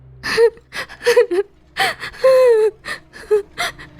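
A woman gasps and pants in ragged, breathy bursts with whimpering, moaning tones, close and fairly loud, with no words spoken.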